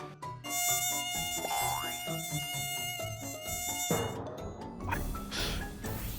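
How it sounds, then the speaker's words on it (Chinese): A mosquito buzzes as a thin, steady high-pitched whine, loud and close, shifting abruptly into a busier, noisier texture near the end. "怎么会有蚊子？"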